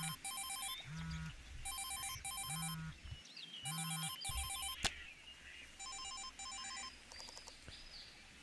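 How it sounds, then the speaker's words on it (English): A phone rings during a call in the video game Perseverance, repeated electronic trilling bursts in a steady pattern, loud and alone, with occasional low tones and chirpy bird-like accents between rings. "I pulled my phone out and called for reinforcements."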